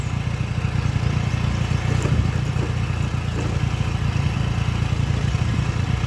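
A motorcycle engine chugs steadily on an off-road ride down a rough hill track, a close, continuous low throb with occasional clatter and no talking.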